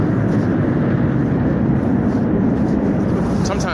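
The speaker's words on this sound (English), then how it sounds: "damn airplanes." An airplane flies overhead as a loud, continuous low roar that stays steady throughout, with talk partly heard beneath the engine noise.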